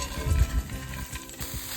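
Corn kernels dropped into melted butter with garlic in a hot pan, a close bursty sizzle with a low thump at the start, then steadier frying crackle with stirring.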